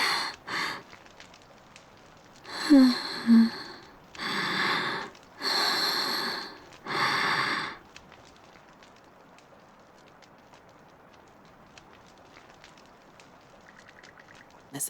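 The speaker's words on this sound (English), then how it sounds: "After drinking the tea that Adel had prepared from the specular grass, Karja's breathing begins to stabilize." Karja breathing in Ys X: Nordics, a series of about five heavy, breathy gasps or snorts spaced a second or so apart, close and fairly loud, then trailing into near quiet.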